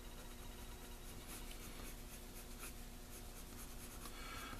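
A pencil scratches on paper while a beaver's toes are sketched, with faint close strokes and soft rubbing over a quiet background hum, and no talking.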